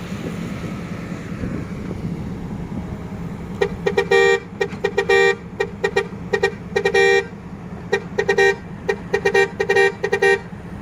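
A car horn honks in a rapid series of short bursts over the low rumble of wind and a running engine.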